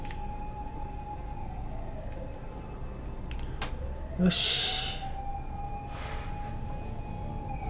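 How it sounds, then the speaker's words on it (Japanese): Police car sirens wail outside in a long, faint, rising and falling tone that runs through the whole stretch, under game sounds and a few spoken words. "なんか外ですごいパトカー走ってる"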